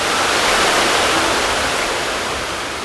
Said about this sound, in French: je me suis un peu écarté de la cascade parce qu'on n'entendait pas très bien